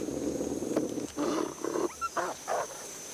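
A wolf in the video game The Long Dark snarling and growling at close range, a rough low rumble followed by several short harsh bursts over steady wind.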